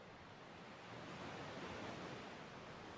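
Ocean waves wash onto a shore in a steady, soft broadband rush that swells slightly midway. It is heard alone, with no voices.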